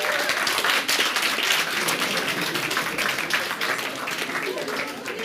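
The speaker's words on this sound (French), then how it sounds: "Ah, on peut l'applaudir aussi, bravo, courageux." Audience applause in a French church gathering, a dense steady wash of clapping lasting throughout, fairly loud and continuous with crowd noise mixed in.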